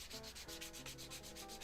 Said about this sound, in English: There's just so much sanding.